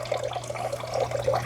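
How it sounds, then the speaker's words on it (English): A small working fountain trickles in a pond built into a show car's trunk, a steady close splashing and running-water sound with no talk. "with a working fountain too"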